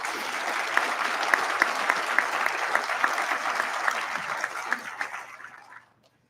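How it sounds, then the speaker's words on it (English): An audience at a high school scholarship ceremony applauds the student applicants. The steady, dense clapping holds for several seconds, then fades out to silence near the end. "I want to pause here and ask the audience to please give those students a round of applause."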